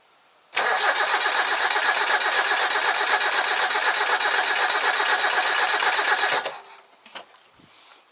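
A car engine being cranked over by the starter with the spark plug out for a spark test, one steady, loud cranking run of about six seconds that then stops, leaving faint clatter behind.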